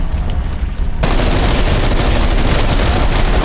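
Stoner rifle fire in a video game starts abruptly after a second of quieter sound and continues as loud, dense, sustained automatic gunfire.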